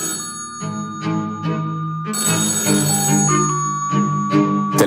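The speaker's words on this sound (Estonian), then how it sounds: "Telefonil tuli lasta 8 korda heliseda." An old telephone bell rings repeatedly in short bursts with pauses between them, loud and close, with no voices.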